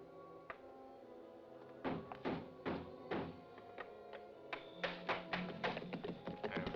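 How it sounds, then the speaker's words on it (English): Men batter at a wooden door in a 1967 Western, a series of heavy thuds and knocks arriving in irregular bursts, close and fairly loud, growing more frequent toward the end. "break that door down"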